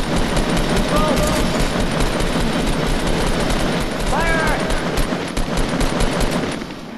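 Sustained rapid gunfire in Fortnite, weapons shooting at built stairs, a loud continuous automatic rattle filling the whole stretch, with brief voice bits over the top.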